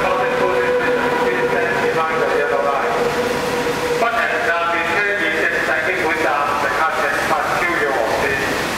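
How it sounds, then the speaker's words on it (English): Loud rumbling SS8 electric locomotive-hauled Guangzhou–Kowloon through train rolling past a station without stopping, with screeching, tonal wheel and brake whine, a continuous close roar filling the whole stretch. "The non-stop train is passing through the station."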